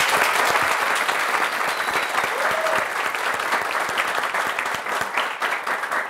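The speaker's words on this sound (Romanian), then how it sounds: "se vede după aplauze că o și îndrăgiți" An audience at an international Red Cross camp claps steadily, a dense wash of applause that stays level throughout without any voices.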